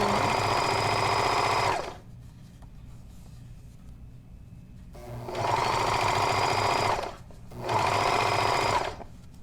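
A domestic sewing machine runs steady, close and loud while stitching a lycra sweater seam, in three long runs separated by short pauses.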